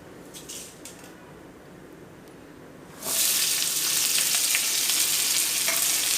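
Onion and tomato fry in a pan: a quiet stretch of low sizzle with a few clicks, then a sudden loud, dense frying hiss that stays steady to the end, with no speech.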